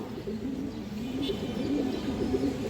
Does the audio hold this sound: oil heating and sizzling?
no